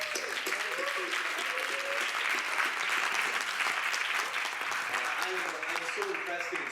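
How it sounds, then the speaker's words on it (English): An audience at a youth entrepreneurship pitch event applauds steadily and loudly, a sustained wash of clapping with faint voices beneath. "Let's hear a big round of applause for"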